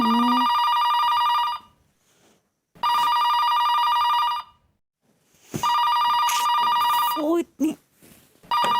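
A telephone rings at night in two long, loud electronic bursts separated by a pause, then starts a third ring that is cut into by a person speaking over it.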